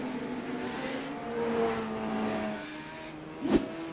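A Legends race car spins on the track at Stafford, its engine droning steadily with a slight rise mid-way, ending in a short, sharp burst of tire or contact noise.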